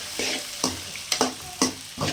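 Onion and capsicum sauté with salt in a pan for pasta, with about five quick, rhythmic stirring scrapes over a faint sizzle.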